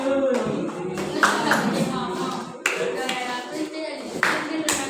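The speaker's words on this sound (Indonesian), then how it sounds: "Beri tepuk tangan untuk kelompok 1." Students in a junior high school classroom clap for a group during a teaching practice session, a few sharp scattered claps swelling into a short burst under overlapping voices.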